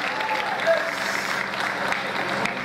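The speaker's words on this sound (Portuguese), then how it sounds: "Uma salva de palmas para essa dupla aqui, gente" A live crowd at a music show applauds a singing duo, a dense continuous clapping with some crowd murmur throughout.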